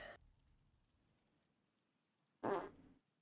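A loud, brief fart bursts out after a long stretch of near silence, lasting about half a second, with a faint earlier sound at the very start and no talking.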